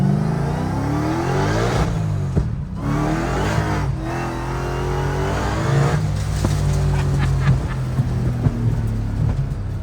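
A Dodge Demon 170 accelerates hard, with a loud close engine roar rising in pitch through several gear shifts and brief dips between pulls.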